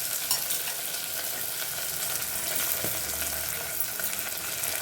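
Onions, green chili, mint and coriander frying in a pan for a Tamil prawn biryani, a steady loud sizzle with light stirring scrapes throughout, close up and without any talking.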